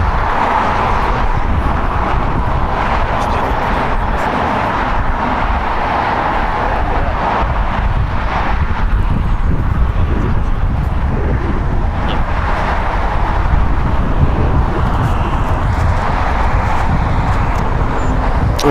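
A SkyWest jet takes off from runway 25 right at LAX: a steady, loud, broadband roar that holds for the whole stretch, mixed with wind buffeting on the microphone.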